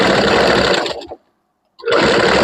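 Sewing machine running loud and close while stitching a puff blouse, a steady whirring burst that stops dead for about a second, then resumes at full speed.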